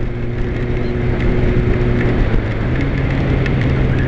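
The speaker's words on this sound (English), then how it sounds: "I think it's starting to rain." Light rain beginning to fall outdoors, a steady soft patter of drops spreading evenly across surfaces, with a low continuous hum underneath and no voices.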